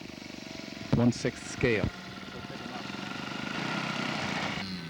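A model aircraft powered by an Indian 90 four-stroke engine, built from a Practical Scale kit from West Germany, drones steadily at a scale air show, rising slightly toward the end while someone speaks briefly over it.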